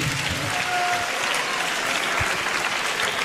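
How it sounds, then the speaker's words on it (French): Concert audience applauding at the Olympia in Paris during a hip-hop awards event, a thick, sustained roar of clapping from a large crowd, steady and fairly loud, with no voices over it. "Applaudissez-le, s'il vous plaît."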